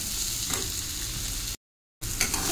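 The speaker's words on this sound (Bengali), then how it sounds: "এই যে আলুটা লাল লাল করে ভাজা হয়ে গেছে" Potatoes fry in a pan while a steady hiss runs through the clip, with one brief full dropout of silence partway through.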